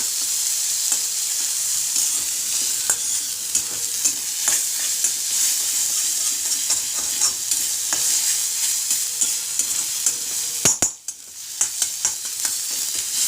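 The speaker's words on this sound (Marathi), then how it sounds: "छान परतून घेऊया." Onion and ground spice paste sizzle in a pan for radish leaf paratha filling, with a steady close frying hiss broken by regular scraping stirs and a brief clatter near the end.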